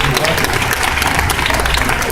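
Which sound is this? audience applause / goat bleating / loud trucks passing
audience applause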